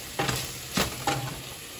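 Onions, garlic and meat in a pan, with a steady sizzle and three swishing stirs, close and fairly loud, and no talk.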